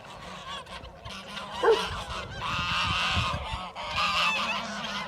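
Geese grazing on grass give loud, repeated honks that overlap into a busy, continuous chorus of calls close by, with no talking.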